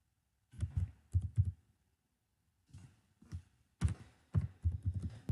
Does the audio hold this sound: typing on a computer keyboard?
yes